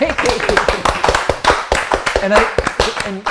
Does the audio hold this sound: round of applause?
yes